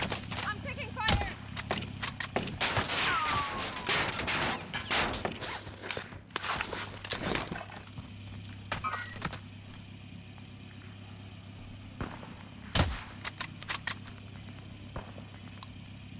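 Video-game gunfire in a battle-royale match, a dense cluster of sharp shots and clattering bursts early on, then sparse isolated cracks over a low steady hum, with a faint voice-like radio line in places.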